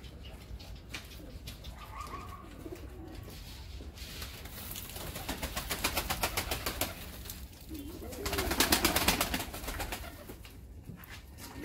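Pigeons coo inside a coop, with soft repeated throaty calls and bursts of rustling and wing movement that swell midway and again near the end, close by and with no talk.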